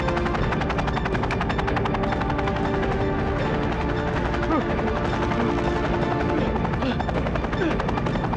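A helicopter roars continuously in flight, its loud, dense rotor chop and engine drone filling the scene throughout, with voices faintly talking underneath.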